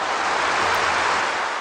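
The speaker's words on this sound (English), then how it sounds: "you can hear the sound of waves." Ocean waves in a video game, a steady broadband wash of surf that fills the short stretch evenly and fairly loud, with no distinct breaking crests and no talk.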